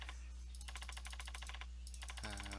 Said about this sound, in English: Tried pressing the F3 key on my actual keyboard.